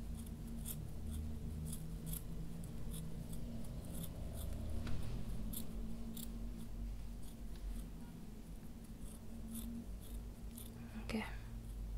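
Scissors snip through a piece of material in a quiet indoor setting, a dozen or so crisp close cuts at a steady, unhurried rhythm over a low hum, with a soft whispering voice at times.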